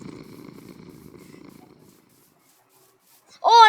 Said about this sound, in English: Why do I hear snoring again?